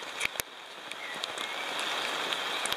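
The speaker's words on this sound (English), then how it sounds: "It is pouring down." Heavy rain pours down outdoors, a steady dense patter on surfaces and water with a few sharper close drops and splashes at the start, no voices.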